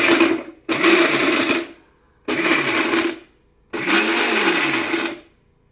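A mixer grinder crushes ginger, garlic and green chillies for mutton dum biryani in four loud, close bursts of whirring motor noise, each about a second long, with short silent gaps between them.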